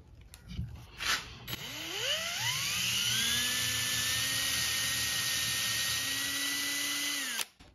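A power drill fitted with a brad point bit bores into wood for a miter saw fence, spinning up after a few clicks into a steady, close, high whine that holds for several seconds before stopping abruptly.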